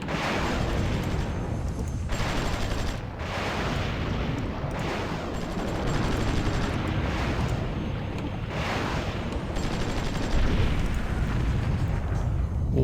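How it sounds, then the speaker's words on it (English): Missile engagement in the Cold War era strategy game Supreme Ruler Ultimate, Vietnam scenario: a continuous loud rumble of explosions and artillery-like blasts, with swelling bursts and brief dips, no voices. "I think I can actually hear them try to engage the missile."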